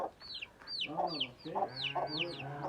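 Chickens cluck and chirp repeatedly at close range, a busy run of short calls with small peeps from newly hatched chicks mixed in.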